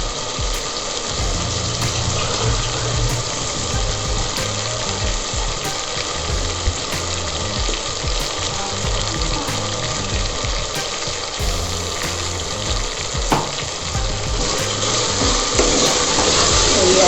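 Pulao ingredients frying in oil, a steady sizzle with irregular stirring and scraping sounds in a pot, close and fairly loud with no talk over it.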